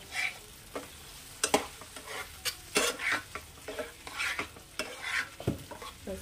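Egg curry cooks in a pan over high flame, and a spatula scrapes and knocks against the pan in repeated, uneven strokes over a steady sizzle.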